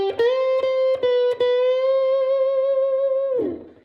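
An electric guitar plays a blues lick: several quick repeated picked notes, then one clear bent note held and sustained for about two seconds before it slides down and fades, loud and alone.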